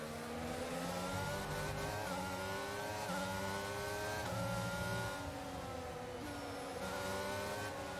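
F1 22 race car accelerating through the gears in the video game, a loud high-revving engine climbing in pitch with quick shifts, steady and continuous throughout.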